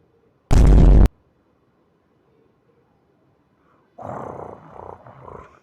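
A single short, loud monster roar like a lion's erupts in a horror video game, followed by silence and then a rumbling, growling stretch of lower-level noise.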